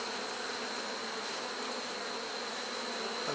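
Honey bees buzz steadily around an open hive during an inspection, a dense, continuous drone close to the listener with no talk over it.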